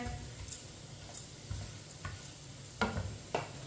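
A spoon stirring mixed dal in a pan with a soft sizzle of frying underneath, scraping strokes recurring every second or so.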